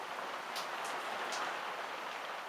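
Steady rain falls outside on a farm on a wet day, a soft, even hiss that holds throughout with no voices.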